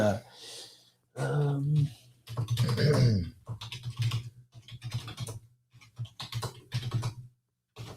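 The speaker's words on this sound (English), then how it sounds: "Typing away." Quick bursts of keyboard typing, close and moderately loud, broken by short pauses, with a person murmuring and breathing over part of it.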